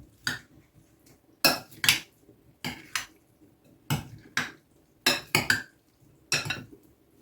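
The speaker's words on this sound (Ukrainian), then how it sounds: "Перемішую двома ложками, так мені зручніше." Two spoons scrape and clink against a pot while ragout ingredients are stirred together with mayonnaise, about a dozen sharp metallic taps and scrapes in an uneven rhythm, close and clear with quiet gaps between.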